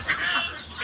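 Pet ducks give a few short nasal honking calls close by, brief and moderately loud with no talk over them.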